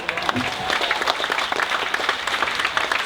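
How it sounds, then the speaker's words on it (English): Passengers aboard the Caribbean Princess cruise ship break into a lively round of applause, with dense clapping and some crowd noise throughout. "So the minute she says that, give them a round of applause."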